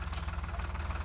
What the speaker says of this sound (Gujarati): અત્યારે જવાનું છે ટ્રેક્ટર આવ્યું છે હાંઠિયું કાઢવા મિત્રો